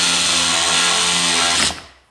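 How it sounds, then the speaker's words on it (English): A Sawzall reciprocating saw cuts through framing lumber with a loud, close, continuous buzzing whine that stops abruptly near the end as the blade finishes the cut. "I'm going to have to finish it off with the Sawzall real quick."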